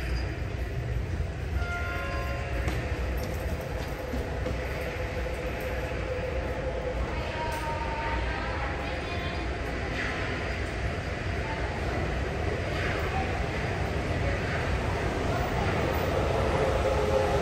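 A subway train pulls into platform 1 of Asabu Station, bound for Makomanai, its steady rumble and rail noise filling the whole stretch with a faint rising screech near the end while station announcements carry over it.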